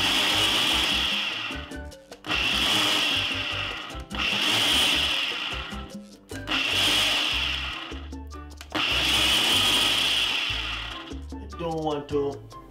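A Ninja blender whirs through a frozen strawberry smoothie in five short loud bursts of a few seconds each, with brief pauses between them and a little clatter near the end.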